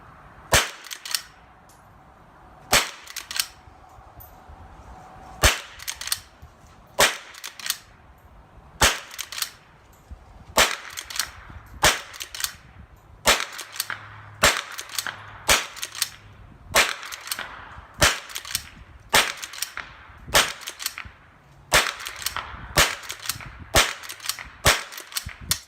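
A Henry H001 .22 lever-action rifle fires two Super Calibre rounds and then .22 shorts. About sixteen sharp, fairly quiet cracks come in a steady rhythm, one every second or two. No one talks.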